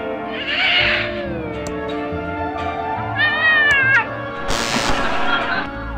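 A cat meows and caterwauls on a TV show in the Thimbleweed Park video game, several drawn-out, wavering cries over a steady musical background, fairly close and clear.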